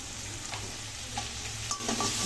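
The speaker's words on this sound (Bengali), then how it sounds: "ভালো করে মশলাটাকে একটু ভাজা ভাজা করে নেব।" Steady sizzling of a spice paste with chopped tomato, turmeric and salt frying in a pan, with occasional stirring scrapes over a constant hiss.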